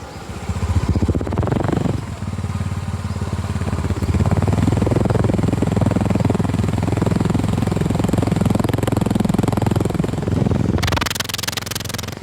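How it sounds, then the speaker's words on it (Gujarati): A small mini bike engine runs steadily for about ten seconds with a rough, rattling mid-range drone and a strong low hum, close and loud, then stops abruptly near the end. "આવી કશી આપણી બાઇકની સાઉન્ડ છે"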